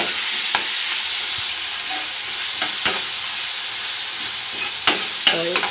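Tomatoes fry in a pan over a medium-low gas flame for a restaurant-style peas and mushroom dish, giving a loud, steady, close sizzle with a few sharp spatula scrapes and taps and no talking.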